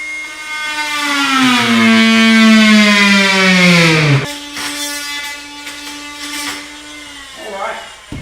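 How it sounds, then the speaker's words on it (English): A Dremel rotary tool cuts a recess for a hidden countertop support L-bracket, its high whine falling in pitch under load, then steadying and cutting out near the end, close and loud with someone talking over it. "this is our handy dandy Dremel tool that has just been around and works great for us"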